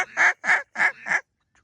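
A mallard duck in flooded corn gives a run of four loud, evenly spaced raspy quacks, close and clear, followed by a faint trailing note.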